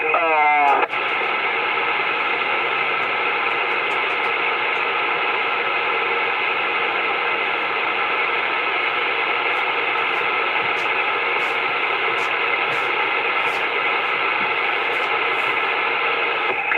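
Steady, loud radio static hiss that fills the whole stretch, with a brief warbling tuning sound at the very start and faint clicks scattered through.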